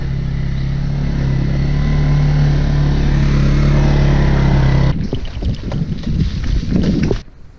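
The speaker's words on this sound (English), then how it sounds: "Here comes the ATV" An ATV approaches on a wide forest trail with a loud, steady engine drone. About five seconds in, the drone gives way to heavy wind buffeting against the microphone.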